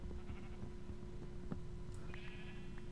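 A Minecraft sheep bleats faintly in the video game, a short wavering call toward the end over steady low background noise and soft game sounds.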